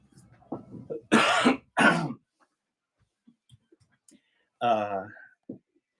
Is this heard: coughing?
yes